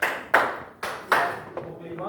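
Students in a classroom counting and clapping game give a short series of crisp, close hand claps, four distinct strokes with a lighter one trailing, while a voice talks faintly underneath.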